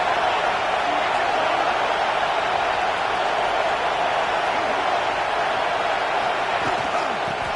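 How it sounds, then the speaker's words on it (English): Stadium crowd at an Auburn versus Nebraska college football game roars steadily and loudly throughout, a dense sustained wall of cheering with no letup. "This crowd rising up, sensing that its defense needs some help."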